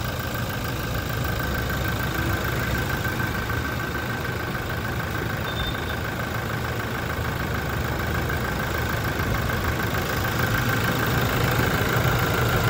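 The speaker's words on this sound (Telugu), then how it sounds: "ఇంజన్ అయితే చాలా నీట్గా అయితే ఉంది, చాలా స్మూత్గా అయితే ఆడుతుంది" A Toyota Innova Crysta 2.8 automatic engine in good condition idles steadily nearby, a smooth continuous hum with no talking or revving.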